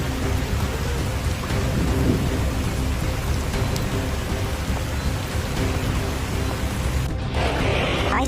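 A thunderstorm with heavy rain produces a steady, dense roar of downpour beating on surfaces with deep rumbling thunder layered in, loud and unbroken throughout.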